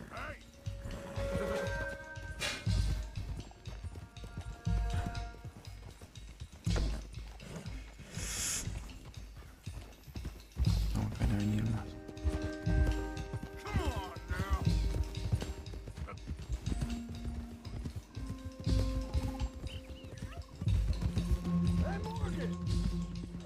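Horse hooves clip-clop steadily in the Red Dead Redemption II video game, running under someone talking along with game music, mechanical rattles and rope sounds.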